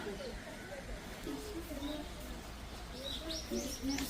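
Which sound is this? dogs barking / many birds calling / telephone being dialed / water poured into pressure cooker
many birds calling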